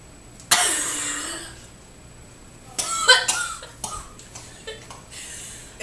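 A sudden harsh cough while eating spicy noodles, then a short cluster of rougher coughs and throat noises a couple of seconds later, close and fairly loud.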